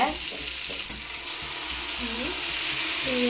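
Ginger garlic paste sautéing in a pan makes a continuous loud sizzle, broken by scraping and stirring knocks from the utensil, with no voices.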